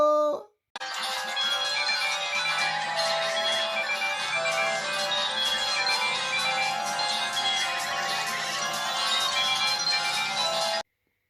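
A rare Chinese JWD S300 Windows mobile phone plays its ringtone, a bright, busy electronic melody with bell-like tones that runs steadily and loudly for about ten seconds, heard alone without speech.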